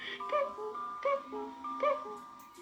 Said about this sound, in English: Now when Pooh heard his cuckoo clock